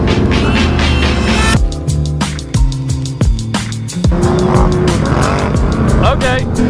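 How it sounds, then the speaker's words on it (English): A four-wheel-drive vehicle on ice revs hard and spins out, its engine whining and tires squealing continuously and loudly, with a few brief breaks in the noise. "this thing just like wants to spin out"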